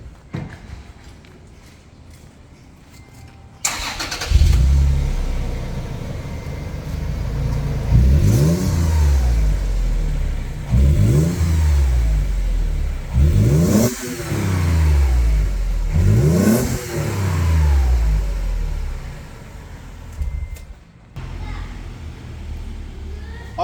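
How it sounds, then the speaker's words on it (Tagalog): A Toyota FJ Cruiser with aftermarket suspension parts starts after a quiet stretch, then idles and revs in four or five rising and falling bursts, loud and close, before dropping off near the end. "We'll start the engine first."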